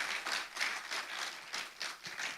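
An audience at an international conference gives a round of applause, a modest patter of clapping in uneven bursts, fairly quiet and heard alone.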